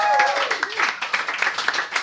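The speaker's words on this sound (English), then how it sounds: "Please clap for her because she's right there." Live audience at the Magnet Theater clapping for a bartender, a brisk burst of applause from a modest crowd with a few whoops and voices mixed in.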